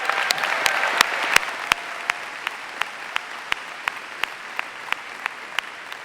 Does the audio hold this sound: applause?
yes